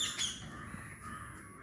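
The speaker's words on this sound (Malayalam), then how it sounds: "ആ ചില്ലയിൽ ഒരു തത്ത ഇരിപ്പുണ്ട്. ഈ ചില്ലയിൽ കണ്ട, അത് തത്തയാണ് ഇരിക്കുന്നത്" A green parrot perched on a tree branch gives a couple of quick, sharp squawking calls near the start, moderately distant and faint, followed by quiet outdoor ambience.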